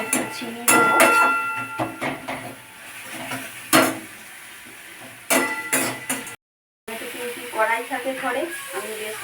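Spice paste being sautéed with chunks of potato and pointed gourd for a soybean curry: loud, close scraping and stirring clatter over a steady sizzle, a brief dropout, then a voice talking over the cooking.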